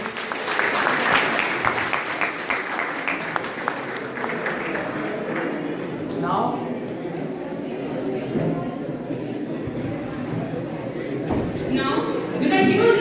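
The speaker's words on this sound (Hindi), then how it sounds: "एक बार जोरदार तालियां हमारे सर के लिए।" An audience at a live college session applauds to welcome a mentor, with dense clapping in the first half that thins out as voices and crowd murmur take over, and a brief swell of clapping near the end.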